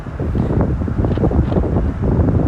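Strong wind buffets an outdoor microphone, a steady low rumbling roar with gusty swells that fills the whole clip with no voice over it.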